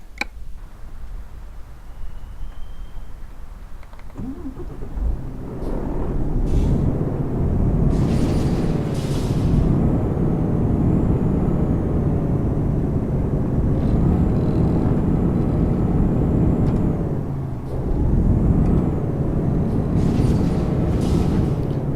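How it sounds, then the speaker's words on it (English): A modded truck's engine in Euro Truck Simulator 2 with ProMods starts quietly and then swells into a loud, steady, droning rumble that holds with slight rises and dips. "I do not like the sound of the engine."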